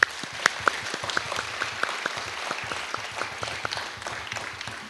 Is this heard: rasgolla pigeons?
no